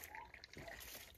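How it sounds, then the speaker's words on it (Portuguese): Spring water welling up from the ground at a natural source, a soft continuous trickle and gurgle heard up close outdoors, low and faint with no talking. "Olha como é o barulhinho da água brotando da terra."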